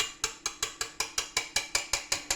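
A whisk working through polenta in a pot, giving about a dozen evenly spaced, close, sharp clicking strokes in quick steady rhythm with no talking.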